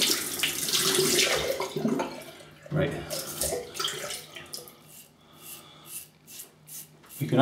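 During a shave with a RazoRock Hawk V1 razor, a tap runs into a sink with splashing and rubbing noises, and someone talks over the water in stretches.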